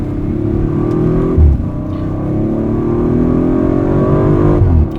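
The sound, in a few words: Audi RS5 V6 engine accelerating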